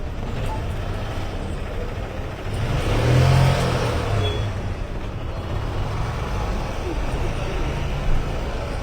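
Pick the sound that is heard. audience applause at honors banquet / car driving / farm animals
car driving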